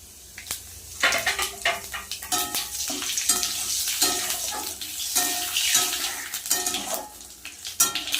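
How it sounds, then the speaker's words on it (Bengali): Bay leaves and whole cumin hitting hot oil in a wok, a loud close hiss and crackle that bursts up after a second, then continues with clattering pan knocks and stirring. "তেল কিন্তু গরম হয়ে গেছে দিয়ে দেবো তেজপাতা আর গোটা জিরে"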